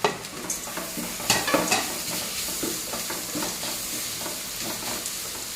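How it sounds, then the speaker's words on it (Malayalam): Onions with crushed pepper and ginger fry in a pan for Kerala-style country chicken curry, a continuous sizzle broken by repeated scraping stir strokes, close and moderately loud, no talking. "നല്ലപോലെ പച്ചമണം മാറുന്നത് വരെ ഒന്ന് ഇളക്കി കൊടുക്കാം"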